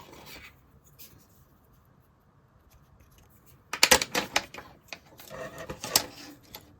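A marker drawn across paper to mark a cutting line, heard as a few quick scratchy squeaks and strokes close by after a quiet stretch, with no talking.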